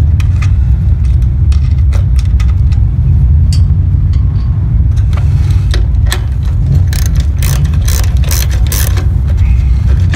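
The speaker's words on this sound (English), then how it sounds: "So we're going to start off here quickly by removing the nuts." Ratchet clicking in bursts while nuts come off a standard dot trailer lamp assembly, the sharp metallic ticks rising above a loud, steady low rumble of nearby machinery or traffic.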